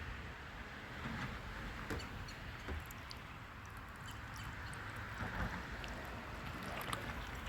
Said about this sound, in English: you can hear it drain and you can see it drain. It goes right down without any problem.